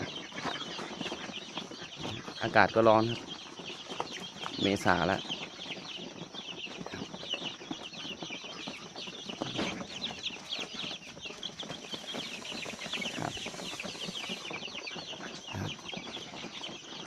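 Four-week-old Roman Brown laying hens in a Betagro flock, clucking and calling in short bursts amid steady coop background noise, with someone speaking at times over them.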